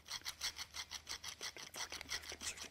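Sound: honing carbide router bit on diamond hone

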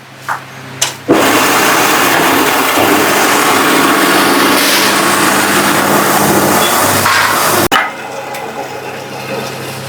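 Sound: mini rice mill machine milling corn

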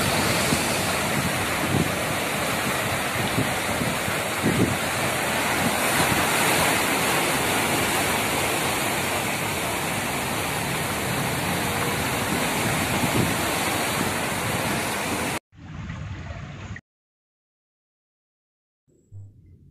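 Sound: sea waves surging violently onto the shore

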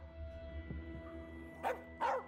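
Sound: dog barking in video game As Dusk Falls

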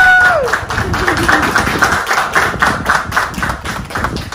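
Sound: applause for Brenda at a graduation

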